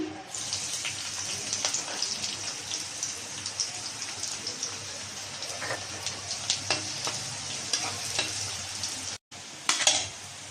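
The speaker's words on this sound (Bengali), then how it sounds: "এখন পেঁয়াজ কুচি দিয়ে দিলাম" Chopped onion frying in hot oil in a wok, a steady close sizzle running throughout with scattered crackles and stirring scrapes, briefly cutting out near the end before resuming.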